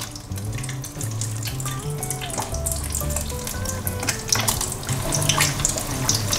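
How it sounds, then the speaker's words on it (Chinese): Slices of yam and potato deep frying two at a time in hot, bubbling oil, with a continuous close bubbling and hissing that runs steadily throughout, no voices over it. "2片2片慢慢炸，我们来看看。"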